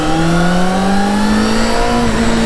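A Yamaha lightweight motorcycle accelerating hard on the throttle, loud and close, its engine note climbing steadily in pitch as it pulls, with no voices over it.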